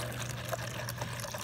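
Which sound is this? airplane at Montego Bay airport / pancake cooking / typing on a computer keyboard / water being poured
water being poured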